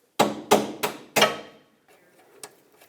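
Four sharp metallic hammer taps drive a bolt through a front lower control arm on a 2008-2012 Honda Accord, quick and close, followed by a few fainter knocks.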